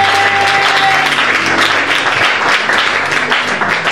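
A church congregation at a Bible teaching bursts into loud, sustained applause and cheering, dense clapping filling the room from start to end.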